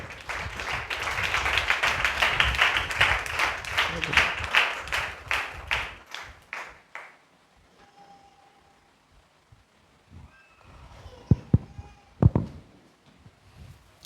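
An audience claps for a speaker being welcomed to the stage in a church gathering. The dense, steady applause lasts about six seconds, then tapers into quiet room noise with a few scattered thumps and faint sounds.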